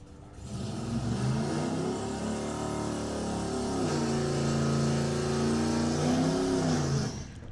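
A Chevrolet Camaro drag car, a car-swap build at a drag racing event, accelerates hard down the strip, its engine climbing loudly through the revs in one sustained run for about seven seconds.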